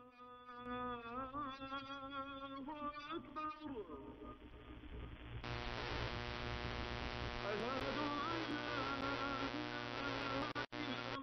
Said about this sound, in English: a signal really buried by power line noise